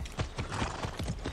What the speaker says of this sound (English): And a horse riding.